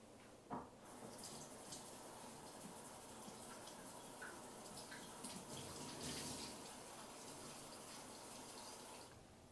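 Tap water runs steadily as a fridge part is rinsed under it, a close, continuous splashing gush that holds for several seconds with a brief knock near the start and no talking.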